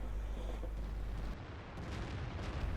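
A tank gun firing in the World of Tanks video game, one heavy booming shot with a deep low-end thump that cuts off sharply, followed by quieter rumbling game noise.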